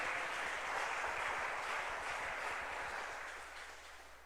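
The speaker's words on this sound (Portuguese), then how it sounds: "Dê um aplauso ao Senhor e glorifique o nome dEle." A church congregation claps steadily, a dense wash of many hands that holds strong and then gradually thins toward the end, with no talk over it.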